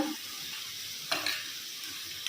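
Shrimp and spices fry in a pan and are stirred for a Bengali dish, giving a steady, close sizzle with a brief scrape or clatter near the middle.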